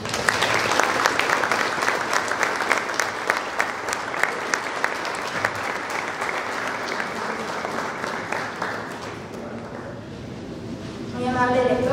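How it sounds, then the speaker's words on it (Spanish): Audience applause at a university academic week inauguration, dense continuous clapping from a seated crowd that tapers near the end, after which a voice begins speaking over a microphone. "El aplauso es para ustedes"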